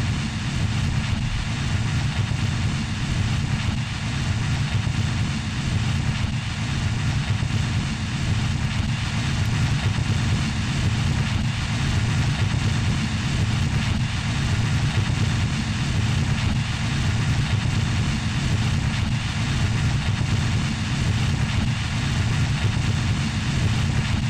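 Turboprop engine running steadily in Kerbal Space Program, a continuous loud low droning hum with a broad hiss on top, unbroken and without voices.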